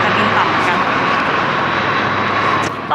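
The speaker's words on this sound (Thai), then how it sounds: "นี่เฮลิคอปเตอร์มาแล้ว" Steady broadband roar of an aircraft passing low over New York City, heard from a busy outdoor viewpoint, loud and continuous throughout with little change.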